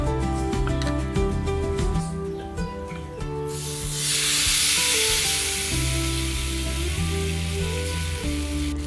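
Vellappam rice batter hisses and sizzles as it hits a pan on high heat, a steady broad frying hiss that swells midway, over a continuous low background hum.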